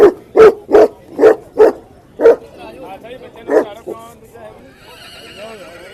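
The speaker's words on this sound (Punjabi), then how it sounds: "ਇੱਧਰ ਦੇਖੋ ਬਈ ਕੁੱਤੇ ਕੁੱਤੇ" Dogs bark at the Maghi horse fair in Sri Muktsar Sahib, Punjab: a quick series of six or seven loud, close barks, then one more. Crowd voices and talk follow in the background.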